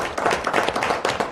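Audience at a Rouyn-Noranda city council meeting claps briefly, a close, uneven patter of hands lasting only a moment with no talking over it.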